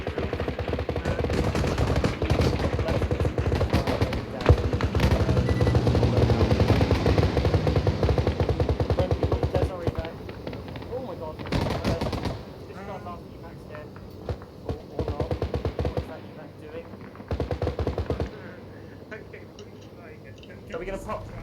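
Gunfire from a military shooter game in a 41st ODST squad operation: dense bursts of rifle and automatic fire through the first half, then scattered shots and short bursts, with voices talking over the action.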